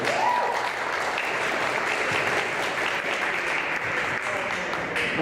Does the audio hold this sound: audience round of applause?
yes